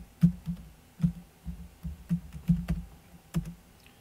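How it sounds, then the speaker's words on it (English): A username is typed on a computer keyboard, with a dozen or so soft, close keystrokes tapping in an uneven rhythm, alone without any talk. "You're going to type in a username."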